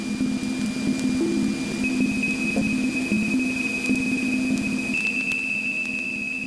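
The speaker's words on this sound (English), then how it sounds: "It records variations in the density of plasma onto a magnetic tape recorder" Voyager spacecraft plasma density variations recorded on magnetic tape and played back as sound: a continuous dense hiss and rumble with faint warbling whistle-like tones running through it at a steady level, with no voices.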